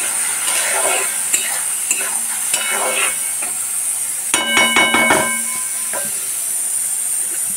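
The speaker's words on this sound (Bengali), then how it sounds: "আমি তেলের মধ্যে দিয়ে দিচ্ছি পেঁয়াজ পেস্টটা। পেঁয়াজ পেস্টটা দিয়ে আমি একটু নাড়িয়ে নেব ভালো করে।" Onion paste sizzles in hot oil in a pan, with a constant hiss while a spoon scrapes and clanks against the pan in bursts of stirring, close and loud.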